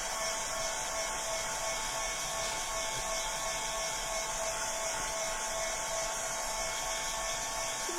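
A hair dryer blows steadily on wet paint on an MDF house, a constant close whooshing hiss with no breaks across the whole stretch and no voices.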